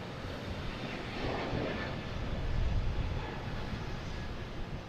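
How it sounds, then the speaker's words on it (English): Delta jet airliner departing Boston Logan Airport, a loud broadband engine roar that swells to a peak midway and then eases slightly, without any talking. "Here's Delta heading to Minneapolis."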